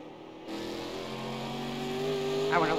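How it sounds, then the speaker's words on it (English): A NASCAR race car engine in the video game NASCAR Legends at Watkins Glen drones steadily from a distance, its pitch rising gradually as it revs toward a gear shift near the end. "I want to listen to their engine a bit more. And they're shifting."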